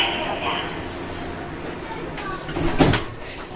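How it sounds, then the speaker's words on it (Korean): Incheon Airport maglev train doors slide shut with a hiss and a thump near the end. Cabin hum runs beneath, and a recorded announcement voice speaks over it. "doors are closing."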